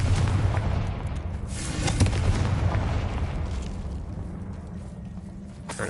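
Spell explosions from Confringo in Hogwarts Legacy, a dense roar of booming blasts and crackling bursts that swell and fade over several seconds, loud and close with no talking.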